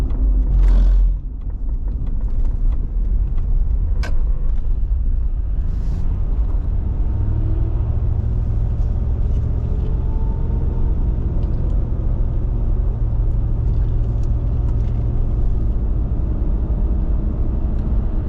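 A car cruising a Georgia highway gives a steady low road rumble and tire hum from inside the cabin, slowing slightly as it pulls over, with a few light clicks early on.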